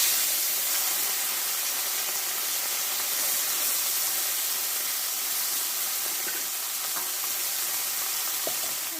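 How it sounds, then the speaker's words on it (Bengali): Small fish frying in hot mustard oil, a continuous even sizzle and hiss, moderately loud and close, with a few faint pops near the end. "এই তেলে আমি ছোট মাছগুলো দিয়ে দেবো দিয়ে ভেজে নেবো"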